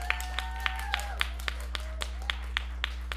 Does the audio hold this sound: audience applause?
yes